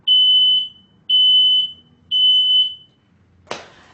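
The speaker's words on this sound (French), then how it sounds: "Le sapeur-pompier teste le détecteur avec un produit professionnel simulant une fumée de début d'incendie." A smoke alarm being tested with simulated early-fire smoke sounds three loud, piercing beeps in an even rhythm, followed by a short sharp hiss.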